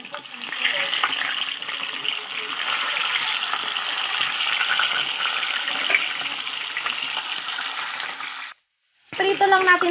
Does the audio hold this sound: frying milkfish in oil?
yes